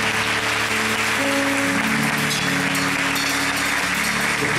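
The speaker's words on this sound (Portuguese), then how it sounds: "Vamos dar uma aplauso para todos que estão" A congregation at a church baptism service claps steadily and loudly, a continuous wash of many hands with some tonal hum and music running underneath.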